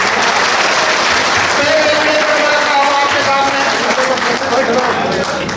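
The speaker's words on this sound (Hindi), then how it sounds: "अपने लिए तालियां बजाओ।" Loud, sustained applause from a packed hall at a meeting, many hands clapping in a dense continuous roar with crowd voices mixed in, easing slightly toward the end.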